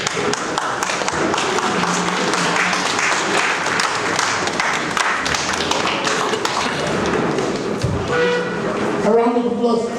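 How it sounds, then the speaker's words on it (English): An audience at a cultural event in The Hague gives a round of applause, dense and loud and filling the whole stretch, with voices mixed in and a tonal sound rising near the end. "A round of applause once again."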